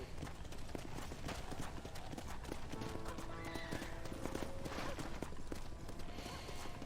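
Horse hooves clip-clopping in the Red Dead Redemption video game, a continuous brisk rhythm of hoofbeats on the ground, with a whinny and herd noise mixed in.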